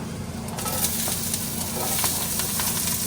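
One chopped onion sizzles and fries in hot oil in a pan, a steady, close, crackling hiss with occasional stirring scrapes and no talking.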